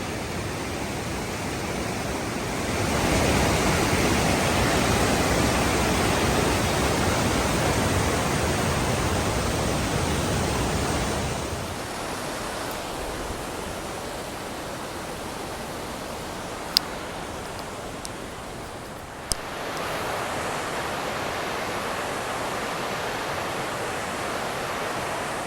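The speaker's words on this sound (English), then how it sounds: "Sometimes these creeks are more raging than the rivers." Winthrop Creek rushes loudly beneath a trail bridge in a steady roar of fast water. The roar is heaviest at first, eases to a softer hiss midway, then swells again, with no talk.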